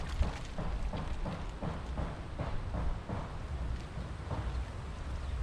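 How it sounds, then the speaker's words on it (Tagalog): Heavy rain pours steadily in a rainy-season setting, with dense, close hiss and low rumbling that swells in pulses like thunder rolling beneath the downpour, with no voices. "Walang kasawa-sawa ho yung ulan ano."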